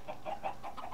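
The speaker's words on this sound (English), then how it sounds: "Chickens are up here." Video game chickens on an automated chicken farm give soft, steady clucks in a quick series of short calls, faint and alone.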